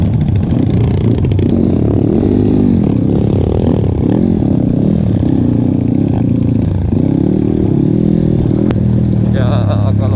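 A motorcycle pulls hard on a rough, rain-soaked trail, its engine revving loud and close with rising and falling surges and clattering, while people talk over it.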